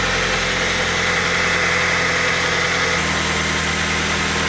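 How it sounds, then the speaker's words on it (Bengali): Close, steady idle of a CNG-converted Toyota Hiace microbus engine, an even low rumble with a slight vibrating texture, running alone with no voices. "আপনারা দেখতে পারলেন যে ইঞ্জিনের সাউন্ড কত মিষ্টি সাউন্ড"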